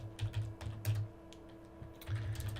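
Keys clatter on a computer keyboard in quick, uneven bursts separated by short pauses, close and fairly quiet while someone writes C++ code.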